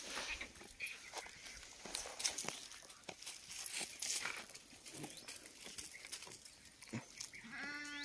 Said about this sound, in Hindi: बहुत ही गाय बकरियाँ भेड़ सब चरा रहे इधर, और इसमें बीच में हम अभी ये बकरी की मिल्किंग करेंगे।